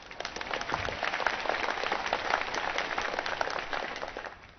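Audience applause at a Christmas celebration stage performance, a steady wash of many hands clapping that holds for several seconds without talk.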